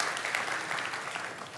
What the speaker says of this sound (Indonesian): Berikan tepuk tangan sekali lagi buat Tuhan